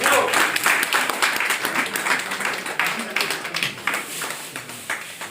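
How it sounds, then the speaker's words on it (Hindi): At a retirement program in India, an audience gives a loud, sustained round of applause whose clear individual claps gradually thin out, while someone speaks in Hindi over the clapping. "तालियां बनती रहे साथियों।"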